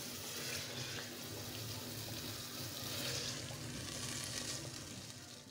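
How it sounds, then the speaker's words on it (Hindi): Keema mince frying with masala in a pan, a steady broadband sizzle that stays even and fairly quiet throughout, with no talking. "इसको अब मैं एक कीमे को मसाले के साथ भून लेती हूँ।"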